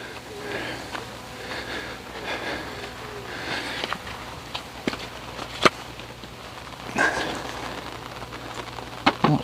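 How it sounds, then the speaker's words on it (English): Steady rain comes down at a lake during a carp fishing session, a soft continuous patter on the shelter with scattered nearby knocks and rustles. "here comes the rain again."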